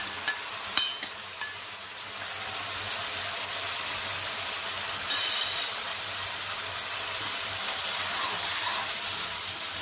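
Masala with coriander powder and Kashmiri chilli sautéing in hot oil, a steady continuous sizzle with a few sharp stirring clinks early on, close and fairly loud throughout.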